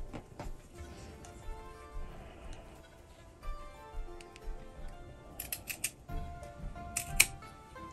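Scissors snipping fabric scraps for a no-sew Scandinavian star ornament: quiet, sparse clicks and snips spread across a calm tabletop background.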